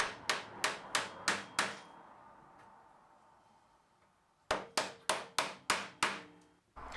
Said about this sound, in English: the dowels can just be tapped into place